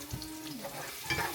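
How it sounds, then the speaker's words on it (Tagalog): Chicken and onion sautéing in a pan, a steady sizzle and frying hiss with light stirring scrapes throughout, close and continuous with no talk. "Pag nagigisa ko, lagi kong inuuna yung sibuyas"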